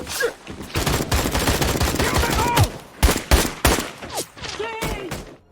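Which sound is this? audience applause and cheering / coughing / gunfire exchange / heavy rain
gunfire exchange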